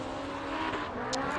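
A Toyota Corolla hatchback drift car on Nexen tires at a Formula Drift qualifying event, heard as a brief continuous engine roar with a short sharp squeal near the end, no talking.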